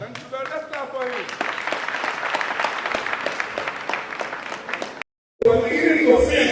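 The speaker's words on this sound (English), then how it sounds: "Let's clap for him." Audience applause from the crowd at a national youth town hall speech, steady and sustained for about five seconds, then a short gap before louder, denser clapping with a bit of crowd noise resumes.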